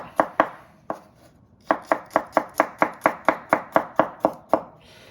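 A knife mincing a garlic clove on a cutting board sounds as crisp, close chops, two quick strikes, a pause, then a steady run of about a dozen evenly spaced taps.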